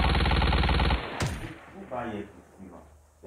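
Automatic machine-gun fire in the mobile shooter Call of Duty Mobile, a loud rapid burst for about a second that cuts off sharply, followed by quieter game sounds and brief voice.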